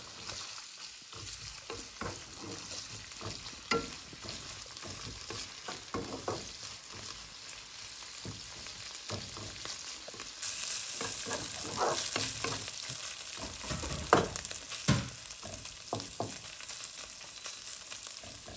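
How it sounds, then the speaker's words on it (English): Doubanjiang, chili, fermented black beans, minced ginger and garlic are stir-fried in a wok for mapo tofu, a soft continuous sizzle with scraping spatula strokes that grows busier toward the end. "Now I have been stir fried this whole thing about a minute"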